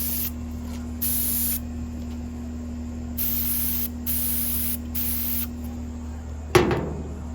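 A spray gun laying down Cerakote coating on a custom exhaust for a Honda race car: repeated bursts of hissing spray start and stop over a low steady hum, with a single thump near the end.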